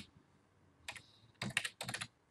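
Short bursts of typing on a computer keyboard, quick clusters of close, crisp key clicks separated by brief pauses in a quiet room.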